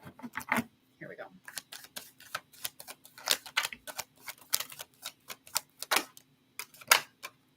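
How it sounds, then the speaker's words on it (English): Tarot cards being shuffled by hand, a rapid series of crisp papery snaps and riffles in irregular bursts, close and fairly quiet, with no talking. "Let me get one more shuffle."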